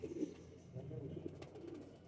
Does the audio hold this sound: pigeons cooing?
yes